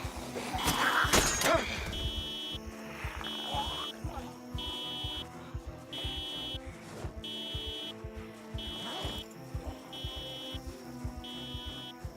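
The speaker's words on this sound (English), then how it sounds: "Is the car alarm in game causing your dog to bark?" A car alarm in the zombie survival game Project Zomboid repeats in steady, regular pulses of a harsh electronic tone. It runs through the whole stretch, with a louder burst of clattering noise near the start.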